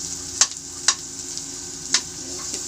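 Onion and garlic sauté in a hot pan with a steady, bright sizzle, broken by a few sharp spatula scrapes and stirs close up.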